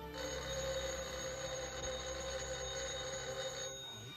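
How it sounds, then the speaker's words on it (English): A telephone rings steadily with a bright electronic tone, continuous and fairly faint, with no voices. "Let it ring. Oh, it will only keep on ringing."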